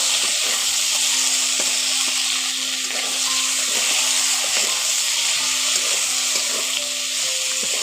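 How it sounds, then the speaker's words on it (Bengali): Chopped tomato frying and being stirred into a curry base for a potato and pointed-gourd rasa, a loud steady sizzle close up with the soft scrape of stirring repeating throughout. "টমেটোর কুচিটা ওর সঙ্গে একটু ভালো করে আবার কষে নিচ্ছি।"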